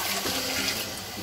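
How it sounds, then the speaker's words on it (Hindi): Chickpea cooking water is poured into a pot during chana pulao preparation, a brief, loud, steady splashing gush heard up close without talk. "अब चने का पानी ये देखिए इसमें ऐड करेंगे"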